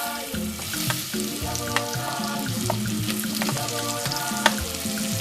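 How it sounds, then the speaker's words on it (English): Vegetable oil sizzles and crackles steadily as onions fry in a cooking pot, with occasional sharper pops over a constant low hum nearby. "I'll start by frying my onions."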